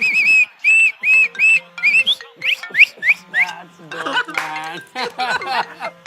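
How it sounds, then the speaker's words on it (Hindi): A man blows a pitched whistle playfully in a home setting, a run of short sliding and warbling tones repeated several times, loud and close, followed by laughter and chatter. "मुझे सीटी बजानी भी आती है।"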